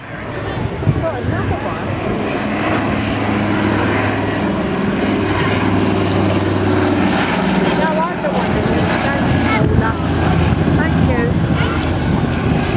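A Catalina PBY-5A amphibian flying at an air day display at Culdrose, its propeller engines droning loud and steady throughout, with an announcer talking over a public address system and crowd noise beneath.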